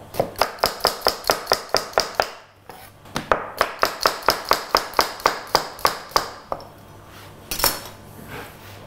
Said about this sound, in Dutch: Nou, snijden we halve ringen van de ui.